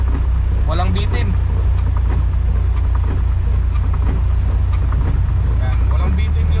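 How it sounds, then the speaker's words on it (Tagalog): A freshly overhauled engine runs with a steady, deep drone, loud and close, with wind buffeting and someone talking over it. "Ayan, walang bitin yung hatak ng makina nito mga kalyabe."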